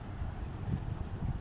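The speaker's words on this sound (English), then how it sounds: "Still windy." Steady wind rushes and buffets against the microphone on the Big Island coast of Hawaii near the ocean, a low rumbling roar with gusty swells and no talking.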